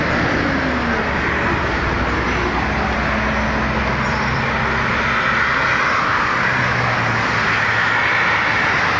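Steady road roar from a car travelling along the Washington Luiz highway, a loud, continuous drone of engine and tyre noise with no talking.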